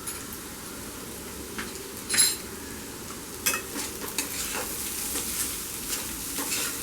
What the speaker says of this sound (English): Now reduce the flame of the gas and let it cook and saute it, stirring it occasionally for another 2 minutes.